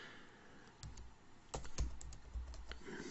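Typing on a computer keyboard, a run of close, crisp key clicks in uneven bursts, some louder strokes standing out, with no talking.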